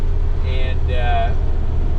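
A 1961 VW Beetle with a 1968cc engine of about 100 to 110 horsepower and a stock 1300 Beetle transaxle, running with a steady, deep, even rumble; a brief voice is heard over it partway through.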